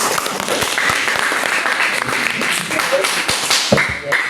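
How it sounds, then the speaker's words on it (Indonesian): Applause in a classroom after group presentations: a room of hands clapping irregularly and steadily throughout, close and fairly loud, with no talk. "Tepuk tangan dulu."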